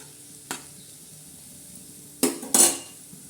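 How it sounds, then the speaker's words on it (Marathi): Lemon and green chilli pickle being stirred in a pan, heard as a short scrape near the half-second mark followed later by two louder clattering, sizzling scrapes close together near the end, with quiet pauses between and no talk. "चांगला मस्त असा हलवून घेणार आहोत"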